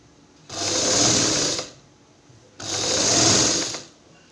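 A sewing machine stitches blouse cloth in two loud, steady bursts of about a second each, with a brief pause between them and no talking.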